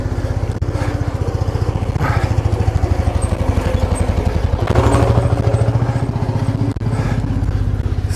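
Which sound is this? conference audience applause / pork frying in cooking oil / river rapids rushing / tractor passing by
tractor passing by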